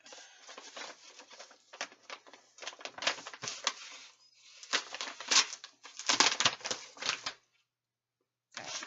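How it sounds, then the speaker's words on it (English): A mailed comic book package gets torn open up close, with bursts of ripping and crinkling paper in uneven spurts, broken by brief pauses, no voice heard. "I'm just gonna rip it."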